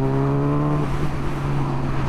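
A Kawasaki Ninja H2 Carbon motorcycle engine producing a steady tonal whistle over a loud running engine roar, close and continuous, the whistle tones fading slightly partway through.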